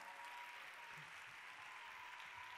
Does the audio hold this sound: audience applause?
yes